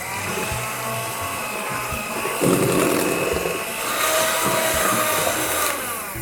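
An electric hand mixer whirs steadily through a chocolate cookie batter of eggs, cocoa and oil, its motor tone shifting and growing louder midway as the beaters work the bowl, close up and without talk.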